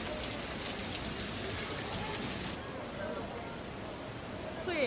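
Rain pours steadily over the Maling River canyon in Guizhou, a dense, even hiss of drops close by that softens slightly partway through and holds to the end.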